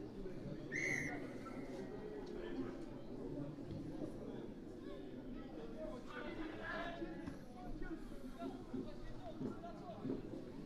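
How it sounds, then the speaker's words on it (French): At a U19 rugby match between Villeneuve-sur-Lot and Lézignan, a referee's whistle gives one short, sharp blast near the start, over crowd noise and commentary. "l'arbitre qui siffle une énième pénalité contre Villeneuve"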